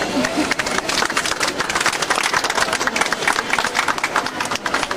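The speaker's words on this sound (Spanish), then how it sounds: "Un aplauso para que se anime, Nadine" An audience at a Tendedero Político gathering applauds to welcome Nadine Reyes. Dense, continuous clapping fills all five seconds at a steady, fairly loud level.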